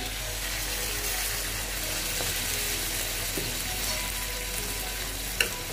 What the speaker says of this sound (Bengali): আমি জলটা গরম জল দেব। দেখো জলটা দিয়ে দিচ্ছি।